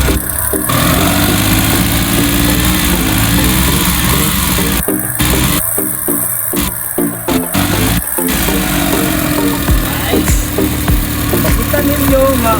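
A Suzuki Scrum 4x4 small truck engine runs steadily at a loud idle, rumbling and vibrating throughout with a few brief interruptions in its tone.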